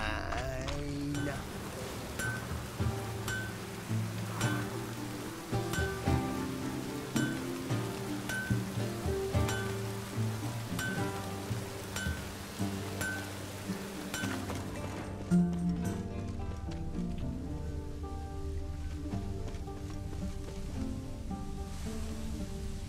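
Steady rain hisses continuously in The Witcher III: Wild Hunt, a soft even wash beneath tonal game music and faint background voices.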